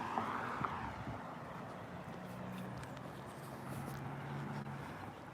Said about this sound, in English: Then I hear these engine sounds behind me.